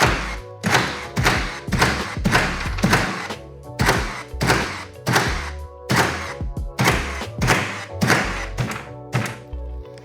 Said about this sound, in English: Let's see what happens when we set in rapid fire mode.